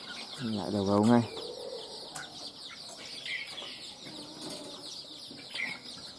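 A caged red-whiskered bulbul flaps its wings in brief, soft bursts against a constant background of chirping birds, while a voice is heard briefly near the start.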